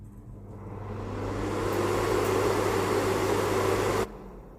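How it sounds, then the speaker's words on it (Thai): The fan of a Tefal EY201866 air fryer runs during a repair test, a whirring hum that swells, holds steady and then cuts off abruptly near the end. "ฟังในส่วนตัวเสียงพัดลมนะครับว่าเราใส่เข้าไปแล้วมันมีเสียงดังหรือเปล่านะครับ"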